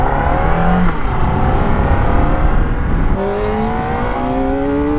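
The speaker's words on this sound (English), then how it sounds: "get this screaming inline 4 small displacement bike out on the racetrack" A 2024 Kawasaki Ninja ZX-4RR, a 400cc inline-four sport bike, screams at high revs on a racetrack, its engine pitch climbing through the gears with a brief dip at a shift, loud and close.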